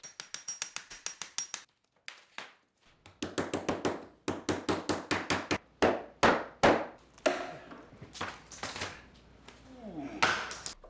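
A paper tabletop is knocked free from a melamine mold with a run of sharp, close taps and knocks, fired off in quick bursts separated by short pauses.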